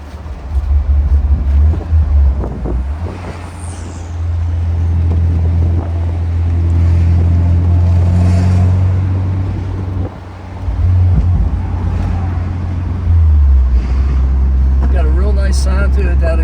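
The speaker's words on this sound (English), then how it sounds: "That exhaust has a little bit of a pop to it. It has a sports car type exhaust system on it." 1973 Alfa Romeo sports car with a sports-type exhaust system and 9k original miles, its engine idling and revving with a low, steady rumble that swells and dips, close by, with someone talking over it.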